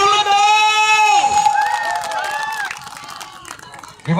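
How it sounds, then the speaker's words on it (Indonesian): Audience at a village karaoke contest cheers and claps in a loud, continuous crowd swell that follows a sung note, with shouts and whoops mixed into the noise. "Tepuk tangannya dulu dong."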